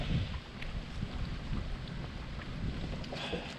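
Strong, cold wind blows across Lake Lanier during a bass fishing outing, a continuous low rushing and buffeting roar with gusts batting the microphone.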